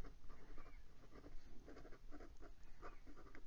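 A Penbbs 491 fountain pen nib writing in reverse across paper, giving a faint, continuous dry scratching with small rhythmic strokes, close up and quiet.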